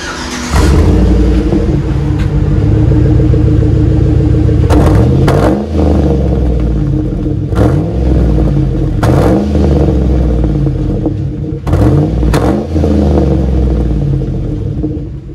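A loud Chevy Silverado 5.3L V8 exhaust idles with a deep rumble, revved sharply several times in bursts that rise and fall back to idle.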